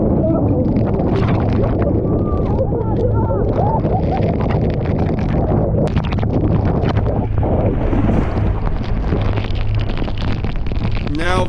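Powerful wind roars and heavy rain lashes a boat off Clearwater, Florida, a dense, unbroken storm din with gusting buffets and some shouting voices mixed in throughout.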